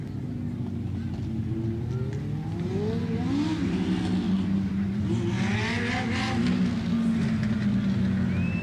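Race cars circle Grand Bend Speedway under a caution period, their engines droning and rising and falling in pitch as they pass, a continuous loud roar with no break.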